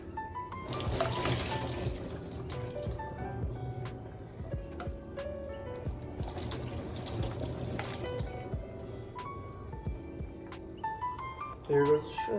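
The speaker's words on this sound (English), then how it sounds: "Now we're going to pour it in a strainer." Boiled shrimp and their cooking water pour into a strainer in a continuous watery rush, with a clatter near the end.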